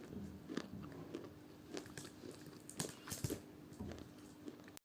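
A crunchy snack is bitten and chewed up close, with a steady series of sharp, crisp crunches and brittle cracks repeating throughout, with no talking.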